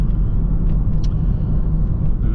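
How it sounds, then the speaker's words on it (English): Volvo XC70 D5 diesel car engine running after a high-pressure fuel pump change, a steady, loud, low rumble heard from close by with no talk. "So far the car's running great, just like it used to before the mishap."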